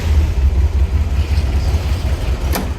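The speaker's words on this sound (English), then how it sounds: "Let's go ahead and fire this up real quick too so you can hear it run." A 1965 Chevrolet Corvair engine idles in neutral with a steady, close, low rumble. A brief click sounds near the end.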